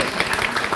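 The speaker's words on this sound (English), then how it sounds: "Yes, please clap." Dense, steady applause from an audience at a Spanish-language picture book award ceremony, many hands clapping together at close range through the whole short burst.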